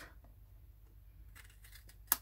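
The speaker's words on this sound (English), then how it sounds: "I'm going to take my scissors" Quiet scissors snip through paper, trimming excess from a handmade card, a few soft cuts ending in one sharp, close snip.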